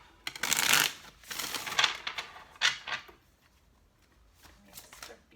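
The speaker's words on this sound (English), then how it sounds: "All right, this will be our last shuffle." Tarot cards are shuffled in several brisk riffling bursts, close and crisp, with short pauses between them and a few softer riffles at the end.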